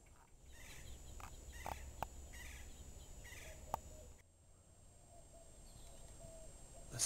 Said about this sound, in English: Listen to the doves in the background